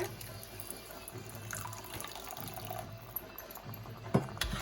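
Hot water is poured into a simmering egg curry, producing a faint, close trickle and splash of liquid with a small clunk near the end.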